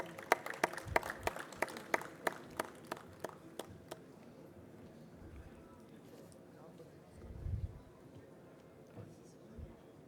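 A short burst of scattered hand clapping fades out, followed by a low murmur of a room and a few muffled thumps.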